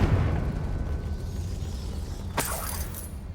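A Confringo blasting spell goes off in Hogwarts Legacy, with a single sharp burst about two-thirds through, rising out of a steady low rumble of ambient game sound.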